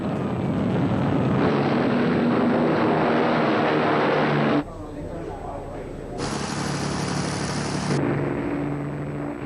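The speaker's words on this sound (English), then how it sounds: "British planes took off for the German industrial city of Essen." Droning engines of WWII British bombers taking off for a raid on Essen, a loud continuous roar with a narrator speaking over it and a shift in tone partway through.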